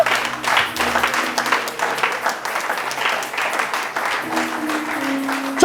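A church congregation applauds and cheers in praise of the Lord, a sustained, close burst of clapping with rhythmic patter lasting throughout, accompanied by a held organ or keyboard tone underneath.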